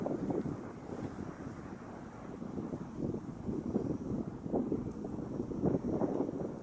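Steady low rumbling buffets of wind hitting a microphone, loud and continuous throughout with no voices.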